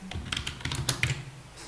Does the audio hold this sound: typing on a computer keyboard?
yes